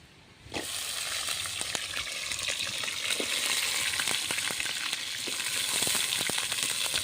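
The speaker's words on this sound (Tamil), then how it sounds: "இப்போ வந்து கொத்தவரங்காய் வதங்கிட்டு இருக்கட்டும்" Cluster beans sautéing in a pan for a mango vathal kuzhambu, a dense steady sizzle that starts abruptly and continues with light clicks and stirring scrapes, close and without speech.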